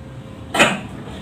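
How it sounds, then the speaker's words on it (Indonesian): A single short, sharp cough from a man, close and fairly loud, breaking a quiet background with no talk around it. "Maaf nih batuk."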